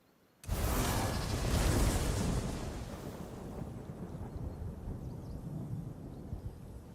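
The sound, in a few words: stormy weather thunder set by weather totem in a video game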